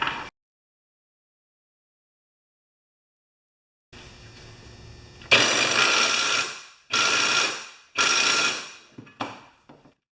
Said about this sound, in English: let's try our new impact machine